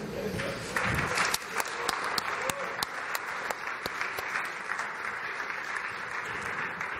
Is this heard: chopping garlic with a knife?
no